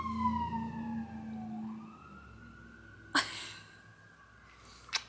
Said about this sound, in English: Uh-oh, it's sirens.